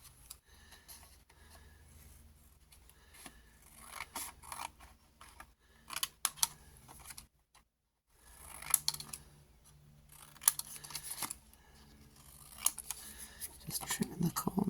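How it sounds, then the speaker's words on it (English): Scissors trim the corners off printed vellum paper in a quiet room: a series of soft, close snips and crisp cuts in small clusters, separated by short pauses. "Just trimming the corners off."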